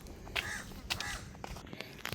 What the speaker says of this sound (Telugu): ఏడున్నాయి ఈ కాకి గోలనేనా?